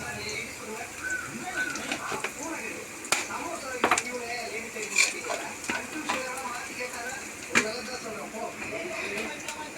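Onions and curry leaves sizzle steadily in a hot pan, with sharp clicks and scrapes of stirring scattered throughout.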